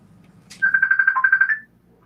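A phone ringtone for an incoming call, one short burst of rapid pulsing electronic tones lasting about a second, clear and close, with faint room sound before it.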